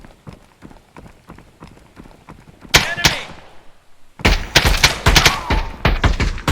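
Gunfire in the video game Exfil Zone: sharp shots come in bursts, with a loud pair near the middle and a dense, heavy volley at the end.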